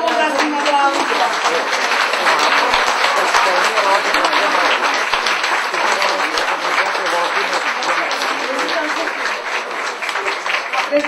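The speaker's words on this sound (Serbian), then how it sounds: "pozdravimo gromoglasnim aplauzom" Loud, sustained applause from a large audience at an anniversary celebration, dense clapping filling the hall throughout and easing slightly near the end.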